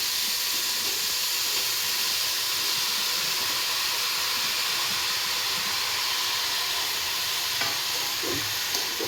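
Brinjal pieces going into a hot pan of fried tomatoes set off a broad, steady sizzle with a hissing wash that carries evenly throughout, close and unbroken, without any voices.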